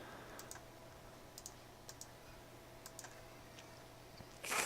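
Keyboard keys pressed for a Control C shortcut in AutoCAD produce a few faint, spaced clicks over a low room hum, and a louder burst of noise closes the sequence.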